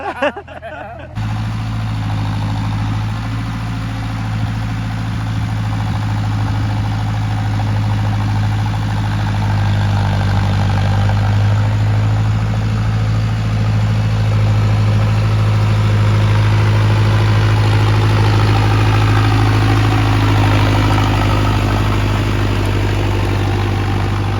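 A tractor engine idles steadily at a farm field being levelled, a loud close low drone with a constant hum running throughout, after a brief rougher start.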